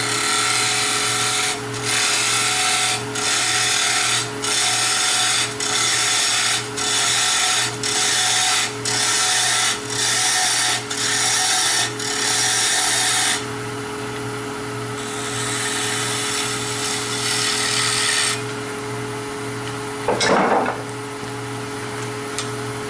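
A wood lathe turning a tenon on a box lid, a steady motor hum under regular pulses of the tool cutting the spinning wood, followed by a longer continuous cutting sound, close and loud.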